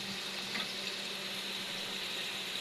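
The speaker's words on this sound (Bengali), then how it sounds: "তো এখন পেঁয়াজ মরিচ ভেজে নিচ্ছে।" Onions and chilies frying in oil inside a pressure cooker, a steady close sizzle that holds evenly throughout with no voices.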